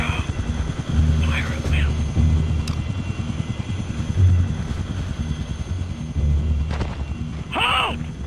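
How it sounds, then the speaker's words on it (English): A helicopter in the Desert Storm video game drones steadily with a continuous rotor thrum, loud and near, under bursts of game noise and chatter, with a sharp electronic chirp near the end. "Exit the base for helicopter extraction."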